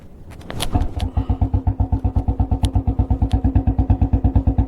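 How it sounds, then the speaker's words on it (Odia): A Royal Enfield Bullet motorcycle cranks and catches, then settles into its loud, close, evenly thumping idle, a slow regular pulse of heavy beats. "ତ ବୁଲେଟ୍ର ଷ୍ଟାର୍ଟଅପ୍ ପଏଣ୍ଟ ସାଉଣ୍ଡଟା କିଭଳି ଲାଗିଲା ଆପଣମାନେ କମେଣ୍ଟରେ ନିଶ୍ଚିତ ଭାବେ ଜଣାନ୍ତୁ।"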